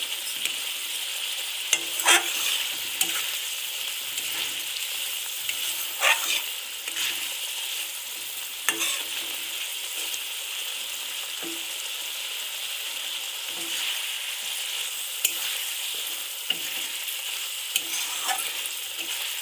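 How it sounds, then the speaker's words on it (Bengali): Potatoes are stir-fried in spice masala in a pan, with a steady close sizzle broken by periodic scraping strokes of a spatula. No one speaks. "সে আলুগুলো দিয়ে আরও বেশ কিছুক্ষণ নাড়াচাড়া করে কষে নেবে"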